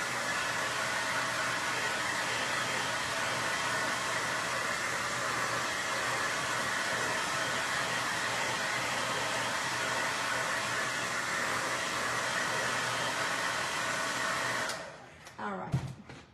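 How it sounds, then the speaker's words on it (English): A blow dryer runs steadily at close range, drying wet paint on a spring and summer craft project, a constant loud whoosh that cuts off abruptly near the end and leaves a few brief handling knocks. "I am gonna hit it just a second with the blow dryer"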